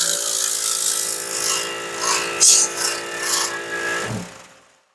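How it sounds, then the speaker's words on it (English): Goodway CTV-1501 rinsing pump running through a turbo nozzle, a close buzzing, rattling motor whir that swells and dips before cutting off and fading to silence, with no talking. "Then we're going to switch it onto the rinsing pump. Going to find our range and just rinse it using that turbo nozzle."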